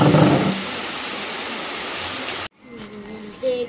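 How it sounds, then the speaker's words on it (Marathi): Steady rain pours down during a monsoon day in the Konkan region, a dense broadband hiss that cuts off abruptly partway through, leaving quieter ambience with faint tones. "हो, पाऊस परत सुरू झाला."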